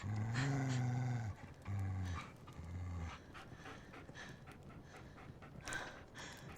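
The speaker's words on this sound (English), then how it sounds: "It's a dog." A dog panting heavily and growling in the Fallout TV series, rhythmic breathy pants in a few bursts at the start, followed by quieter low growling and scattered background sounds.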